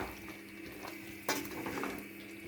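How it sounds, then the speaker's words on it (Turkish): A spoon stirs leeks and rice in a cooking pot, soft scraping and clinking with one sharper knock midway, steady and fairly quiet against a low background hum. "Güzelce karıştırdım"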